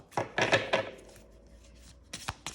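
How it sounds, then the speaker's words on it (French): Oracle card deck being shuffled by hand, a few quick papery riffles and slides up close, then a quiet pause before a couple more short card flicks. "il se mélange très bien. Les cartes, elles glissent"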